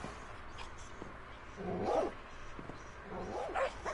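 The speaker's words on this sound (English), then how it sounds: "Countless dogs just to have them because they're awesome." Dogs bark in the Minecraft video game, two short bursts of yipping barks over a quiet background hum.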